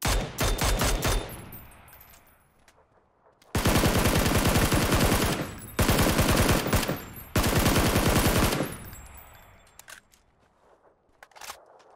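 Bursts of automatic gunfire in PUBG on Xbox One, long loud sustained volleys separated by short pauses, with rapid repeated shots and quieter stretches between them.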